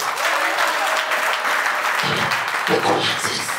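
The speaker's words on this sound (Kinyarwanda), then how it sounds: "tumera Imana amashyi" Congregation applauding God at a church service, a dense, steady wash of clapping from many hands that fills the room, loud and continuous, with a voice rising briefly over it near the end.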